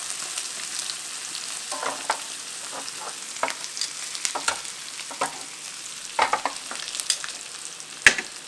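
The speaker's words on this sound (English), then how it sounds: "I'm going to start throwing in our butter, and let that get nice and brown" Steak sears in a pan of browning butter with garlic, giving a steady crackling sizzle broken by sharper spits and a few utensil clinks, close up with no one talking.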